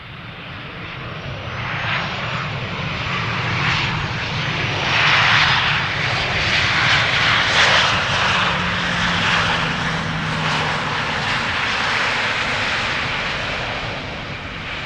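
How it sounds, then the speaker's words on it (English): A Boeing 787 Dreamliner jet takes off from the center runway at Schiphol Airport, a loud continuous engine roar swelling toward the middle and slowly easing, with no voices over it. "that was another Dreamliner by the looks of it that just took off from center"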